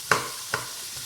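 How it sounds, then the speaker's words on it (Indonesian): Onions frying in oil sizzle steadily in a pan while a utensil stirs them, giving two distinct scraping taps about half a second apart over the constant hiss. "Langsung masukin si bawang bombaynya."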